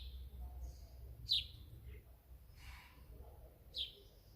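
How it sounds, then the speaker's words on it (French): Birds chirp softly in an outdoor natural setting, a few brief high tweets rising at intervals over a faint, steady background murmur. "les oiseaux,"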